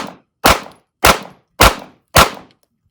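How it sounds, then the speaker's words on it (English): Gunshots fired at shooting practice, five sharp, loud, evenly spaced reports about half a second apart, each with a short decaying tail, heard close with no talking. "Go ahead. 6 shots."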